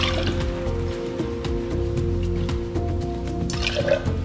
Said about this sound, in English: So go ahead and get your pineapple juice ready and put 3 ounces into the cocktail.